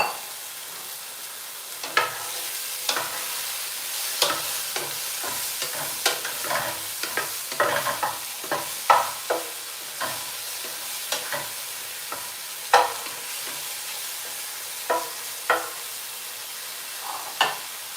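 Food for a steak dinner is stirred in a sizzling pan, with a steady frying hiss broken by irregular, close scrapes and clinks of a utensil against the pan and no voices.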